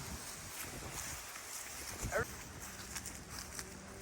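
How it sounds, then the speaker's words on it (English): Steady cold winter wind rushing across the microphone throughout, loud and constant, with brief gusty swells and a few faint bumps, outdoors in a rare-fruit growing garden. "Windy and cold."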